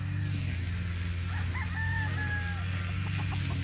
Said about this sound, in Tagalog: Mga gwapong stag.